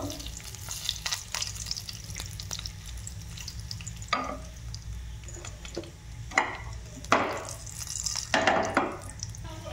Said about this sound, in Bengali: কড়াইতে দিয়ে দিলাম তেল। তেলটা গরম হয়ে গেছে। এবার যে গুঁড়ো করে রেখেছিলাম 5 ফোড়ন আর শুকনো লঙ্কা, সেটা দিয়ে দিব।